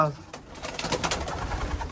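Young racing pigeons coo in a loft, soft throaty calls close by, with someone speaking over them through most of the short stretch.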